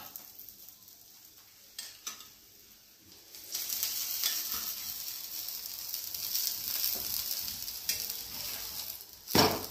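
An onion paratha made from wheat and jowar flour roasts crisp on a hot pan, giving a steady soft sizzle that swells louder midway and holds, with light scraping or pressing near the end.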